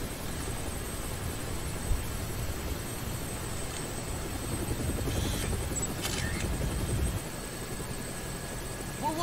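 A helicopter in the video game Dead Rising flies overhead, a steady broadband rotor and engine roar filling the scene with little change in level.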